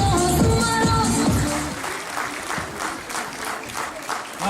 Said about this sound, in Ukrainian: Аплодисменты нашим участникам за такой прекрасный творческий подарок